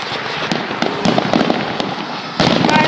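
Fourth of July fireworks going off in a rapid barrage, dense overlapping bangs and crackles with louder bursts near the end.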